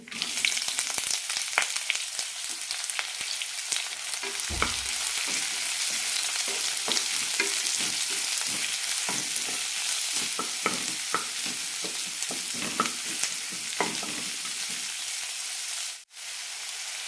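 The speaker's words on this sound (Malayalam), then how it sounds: "എണ്ണ ചൂടായിട്ടുണ്ട് ഇതിലേക്ക് കറി മസാല ഇടാം പട്ട ഗ്രാമ്പു ഏലക്ക സ്റ്റാർ അനൈസ് പെരിഞ്ചീരകം വലിയ ജീരകമൊക്കെ നന്നായി പൊട്ടുമ്പോൾ" Whole spices (cinnamon, cloves, cardamom, star anise and fennel) frying in hot oil give a steady, close sizzle with scattered crackles and pops that continues for the whole stretch, with a short dip near the end.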